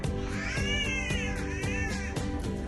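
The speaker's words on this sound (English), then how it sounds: "now it actually sounds more like cats howling at each other" Cats howl and caterwaul back and forth in a rainforest setting, producing rising and falling wails in repeated bursts at a moderate distance, with no talking.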